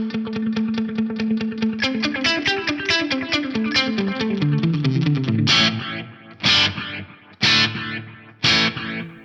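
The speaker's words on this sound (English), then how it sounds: "If I engage the delay over here, I've got a lovely rhythmic style echo." Distorted electric guitar played as a rapid run of notes through a rhythmic delay, the repeats stacking into a pulsing echo, then several loud chord stabs separated by short gaps, with no talking.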